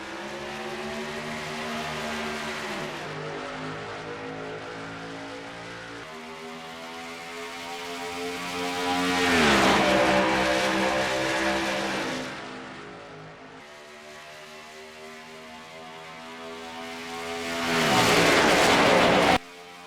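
Racing trucks in a sim race at Las Vegas pull away from the start, a pack of engines droning and revving together, swelling to two loud roaring surges as they accelerate, with no talk.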